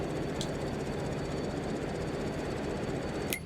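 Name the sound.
farm vehicle engine running in Farming Simulator 22 video game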